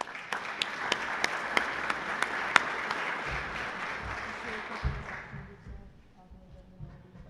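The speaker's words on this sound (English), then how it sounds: "Phipps, Nyasha Kodzai, and Sophia Gonzalez, if we could give them a round of applause." An audience at a scholarship panel breaks into steady applause as panelists come up to the stage, a dense wash of many hands with a few sharp near claps, then it thins out and fades toward the end.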